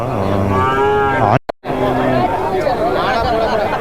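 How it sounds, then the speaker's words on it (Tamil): A cow with her calf moos at a cattle market in Madrapalli, giving a long, loud, close low call over crowd chatter. A second, rougher moo follows amid the bustle of people talking. "அழங்க மாடு வந்து பார்த்தீங்கன்னா கன்று கன்றுக்குட்டியோடு இருக்குது"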